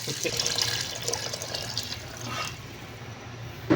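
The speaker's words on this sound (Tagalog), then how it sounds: "lalagyan na natin siya ng tubig." Regular water poured into a cooking pot of chicken with oil for tinola, a steady splashing pour that runs throughout at moderate loudness.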